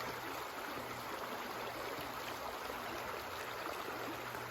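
A cold mountain stream rushes steadily during a ford on the Appalachian Trail, a constant broad hiss of flowing water close by with no voices.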